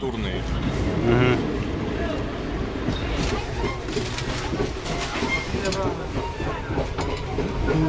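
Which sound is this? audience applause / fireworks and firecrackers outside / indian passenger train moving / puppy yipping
indian passenger train moving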